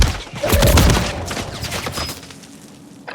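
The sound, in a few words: gunfire in video game Call of Duty Warzone Rebirth Island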